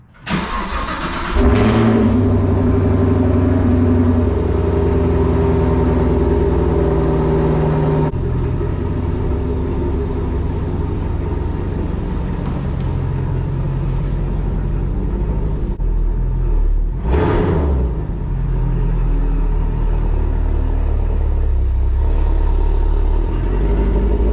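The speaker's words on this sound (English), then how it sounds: "I do gotta move the car." A Chevrolet Camaro SS starts up and idles with a deep, loud rumble as it is moved, holding a steady engine drone with a brief surge of revving partway through.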